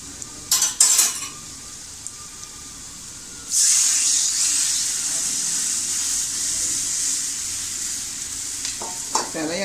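Gram flour mixture poured into a hot pan for Maharashtrian pithla, with a few utensil clinks first, then a sudden loud hissing sizzle that holds steady as it is stirred, with light scraping taps near the end.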